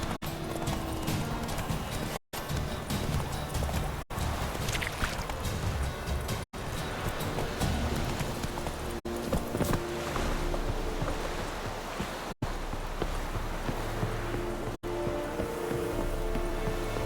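Horse hooves clip-clop at a gallop in The Witcher 3 video game, a loud, fast and steady rhythmic pounding that keeps going throughout with only brief breaks.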